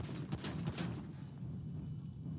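Rapid pistol fire from the default GTA handgun in Grand Theft Auto, a dense run of loud, close shots blurring into a steady barrage as magazines are emptied into a burning target.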